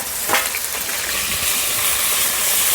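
Onion and garlic paste with cumin, mustard and radhuni frying in hot oil gives off a steady, close, bright sizzling hiss that holds without a break.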